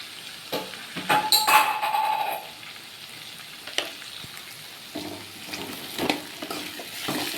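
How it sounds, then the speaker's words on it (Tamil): Chopped vegetables with turmeric fry in oil for semiya upma, sizzling and crackling softly while a spoon scrapes and knocks the pan now and then, close and moderately quiet. "ஆயிலையே காய் கொஞ்சம் ஃப்ரை ஆகட்டும், ஒரு 2 மினிட்ஸ்"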